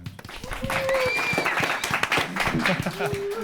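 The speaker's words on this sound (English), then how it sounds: "Round of applause for Mr. Matt Pleck." A room of people claps and cheers, loud and close, while a voice calls out over the applause.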